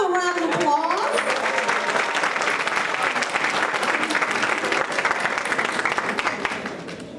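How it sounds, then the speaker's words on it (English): An audience at a completion celebration bursts into sustained applause, dense clapping with some crowd voices and a brief spoken call at the start, easing slightly toward the end. "Let's give Miss Reddick's group another round of applause."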